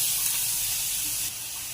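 Onion and cabbage sauté in a hot pan, giving a loud, steady, hissing sizzle that runs continuously and drops slightly in level near the end.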